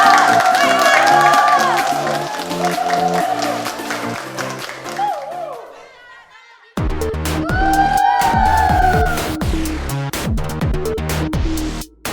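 A school audience claps and cheers for the class 12 performance, enthusiastic applause and whoops under loud stage music, dipping briefly before surging back strong.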